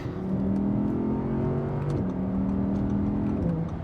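A 2018 Audi R8 RWS with its 5.2-liter V10 revs and pulls hard, a loud, steady engine note climbing through gears with a brief shift dip near the middle, heard from close by with no talking.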